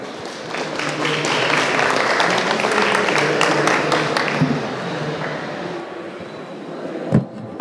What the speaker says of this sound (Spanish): Por favor, un aplauso para Josman.